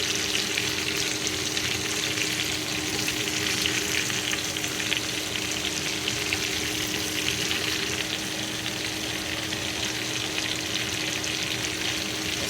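Vegetables cooking in a pan give a steady, even sizzle that stays unbroken and moderately loud from start to finish, close by with a faint low hum underneath and no voices.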